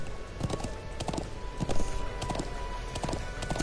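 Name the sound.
horse hooves galloping while riding, from video game Trails of Cold Steel 2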